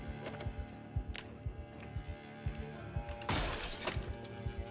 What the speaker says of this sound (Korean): 어디가 깨지는 소리가 났고요